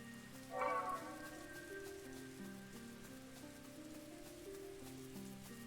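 Steady rainfall in the perpetually rainy capital city of Terran in the role-playing game Chained Echoes, a soft continuous patter under sustained game music, with a brief brighter splash near the start.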